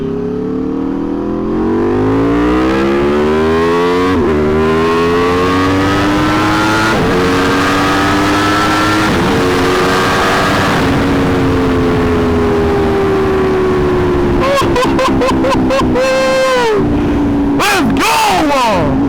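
A 2020 Aprilia RSV4 Factory superbike is ridden hard, its engine loud and close with rising revs, shifts and sharp throttle blips toward the end over heavy wind noise.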